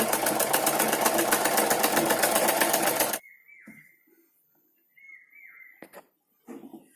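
Sewing machine stitching the waistband of a blouse runs loud and steady for about three seconds, then stops abruptly, leaving faint handling noises and brief scrapes.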